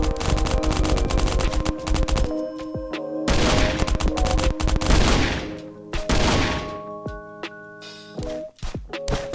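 Rapid automatic gunfire from a survival shooter video game, with long bursts of loud, close machine-gun fire, brief pauses and a few scattered single shots.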